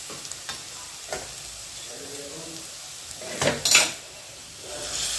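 Green peas and onion fry in a pan with a soft, steady sizzle, broken by occasional spatula scrapes and a brief louder stir near the middle.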